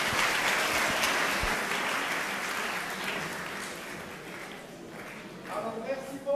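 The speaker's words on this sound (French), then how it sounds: "Vous pouvez l'applaudir." An audience at a talk on infectious diseases and emerging viruses applauds steadily as a bouquet is handed over, a dense wash of clapping that slowly thins out, with some voices mixed in.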